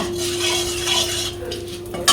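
Black cumin and dried chillies go into hot mustard oil in a wok, giving a sizzle with scraping and stirring of a spatula against the metal, ending in a sharp clink.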